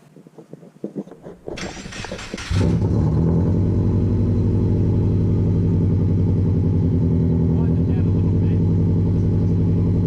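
Car engine cranking, catching and then revving hard through a loud exhaust with a holed resonator on a driveway, a few seconds of starter whirr before a sudden heavy, steady roar.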